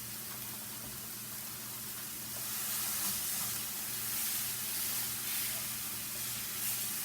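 Burgers fry in oil in a skillet, a steady soft sizzling hiss that thickens slightly partway through, with a low electrical hum running underneath and no talk heard.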